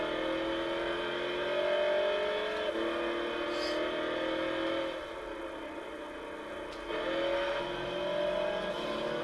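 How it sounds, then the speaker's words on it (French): A car engine revs steadily in the racing game GT6, with rising and falling pitch, a sustained mechanical drone with brief dips between pulls, heard alone without voices. "Quand je vous disais que ça faisait un bruit magnifique."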